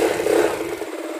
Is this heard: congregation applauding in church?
no